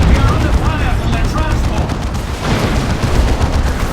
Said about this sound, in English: Guardsmen taking shots now